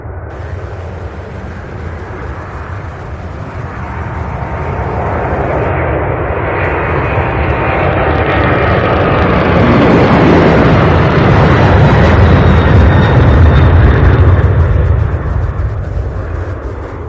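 A fixed-wing airliner passes at Louisville International Airport, its engine roar swelling steadily from a distant rumble to a loud, broad blast before beginning to ease off.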